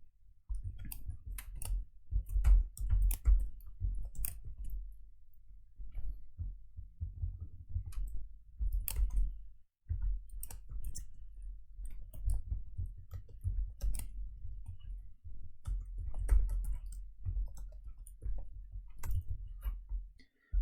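Code is typed on a computer keyboard in irregular bursts of soft close clicks and key taps, with brief pauses between runs and a faint low thump under the keystrokes, no talking.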